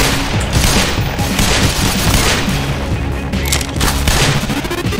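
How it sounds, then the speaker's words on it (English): Rapid gunfire from the video game Black Mesa sounds as a loud, dense burst of shots and booms running continuously without a break. "I got a gun."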